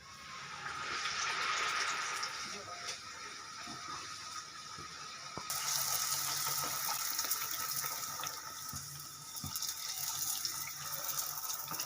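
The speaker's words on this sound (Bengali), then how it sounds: "এবার আমি এটাকে তেলে ভাজবো বন্ধুরা তেল গরম হয়ে গেছে আমি এবার এটাকে ছেড়ে দিলাম" Food sizzles and crackles steadily in hot oil, a broad hissing fry that swells louder partway through and continues close by.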